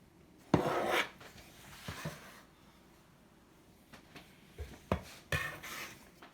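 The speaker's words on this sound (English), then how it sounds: "going to cut it in half with my trusty metal scraper" A metal bench scraper cutting bread dough in half on a work surface: a few short, quiet scrapes and taps, close by, separated by pauses.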